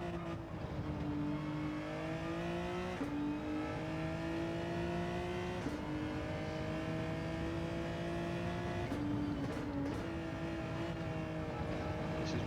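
A Genesis GR3 race car in Gran Turismo 7 at Lago Maggiore, its engine droning steadily and climbing in pitch through the gears with several sharp upshift drops, continuous and up close.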